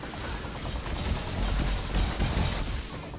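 Rapid gunfire from the video game Evil West, a dense, sustained burst of shots filling the whole stretch at steady loudness with no talk over it.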